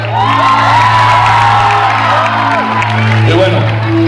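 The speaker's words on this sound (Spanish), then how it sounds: "un aplauso por favor" A concert crowd at a show applauds and cheers loudly, with whoops and shouts rising over sustained clapping and a low steady hum.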